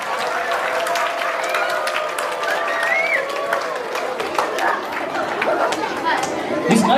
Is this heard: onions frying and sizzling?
no